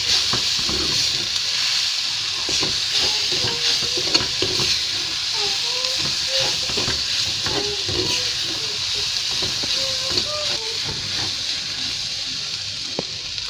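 Turkey berries being stirred in a frying pan, with a steady sizzle and hiss running throughout and soft scraping stir strokes scattered across it, close and fairly loud, with no voices.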